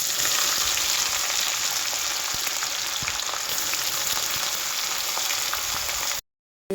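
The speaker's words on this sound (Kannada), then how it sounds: "ಇವಾಗ ಹಸಿಮೆಣಸಿನಕಾಯಿ ಹಾಕ್ಕೊಳ್ತಿದ್ದೀನಿ. ಇವಾಗ ಈರುಳ್ಳಿ" Green chillies and onion frying in a pan at home give a steady, close hiss and sizzle that runs unbroken for about six seconds, then cuts out abruptly.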